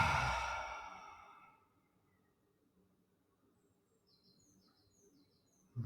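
A long, slow exhale during restorative yoga fades gradually into near silence, with faint chirping in the background and a brief sound at the very end.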